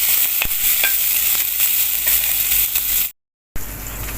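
Onion, ginger, garlic and green chilli sautéing in a hot pan, a steady bright sizzle with stirring scrapes and small clinks, close and loud, then a brief cut to silence before the frying resumes.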